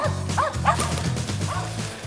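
Hunting dogs bark and yip at a squirrel treed in the woods: a close, busy chorus of overlapping bow-wows and high yips running steadily throughout.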